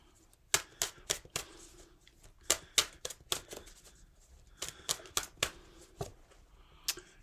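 Tarot cards riffle and snap in quick bursts of crisp shuffling, followed by sharp flicks and slaps as cards are drawn and laid down, close and fairly quiet with no talk.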